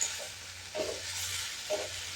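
Tomatoes frying in a pan while being stirred, giving a soft steady sizzle with a few scraping stir strokes roughly a second apart, close and fairly quiet.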